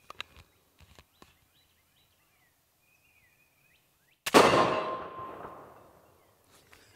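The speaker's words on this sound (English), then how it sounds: "we just want to shoot it with a 22 short, see if it detonates" A single sharp .22 short rifle shot strikes a Firebird 50 BIO exploding target, setting off a loud detonation burst that rings and fades over roughly two seconds, with faint clicks before and after.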